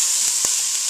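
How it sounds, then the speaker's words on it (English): Vegetables sautéing in a pan for a Bolognese, giving a steady, loud sizzle throughout with a couple of brief stirring knocks, and no voices. "we will just saute these until they get a little soft"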